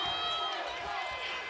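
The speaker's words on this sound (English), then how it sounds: "So you can sure hear the Hawaii crowd behind us, can't you?" Hawaii home fans roar in a basketball arena during a college game against UC Riverside, a loud, continuous wall of crowd cheering and whistling.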